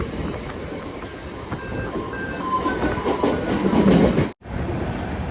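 A crowded Mumbai local train rumbles steadily along the tracks with a continuous rattling roar and faint clacking, loud and close throughout.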